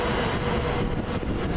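A train approaching a station gives a steady, loud rumble of rolling wheels and rail noise throughout, with no voices.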